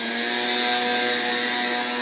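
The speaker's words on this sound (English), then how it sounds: "we're gonna get past this leaf blower" A leaf blower runs outdoors nearby with a loud, steady, buzzing engine whine that holds constant throughout and is heard alone, without talk.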